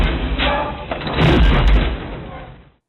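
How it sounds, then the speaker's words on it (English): Laser cannon firing effect from a Star Wars AT-AT remote control toy, a single loud, harsh electronic blast sustained for about two and a half seconds, close up and alone, fading out abruptly. "fire laser cannons with lights and sound effects"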